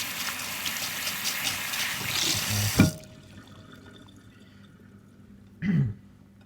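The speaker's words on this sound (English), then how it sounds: "Go ahead and wash your hands after that" Hands are washed under a running kitchen tap, a steady close splash that stops abruptly, followed by quiet and a short second burst of water.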